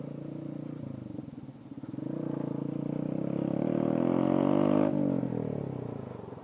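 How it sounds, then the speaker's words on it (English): Honda Grom motorcycle with a worn, noisy chain, its small engine droning steadily and rising in pitch while running, with a continuous rattling whir heard up close and no talking. "that chain sounds like shit"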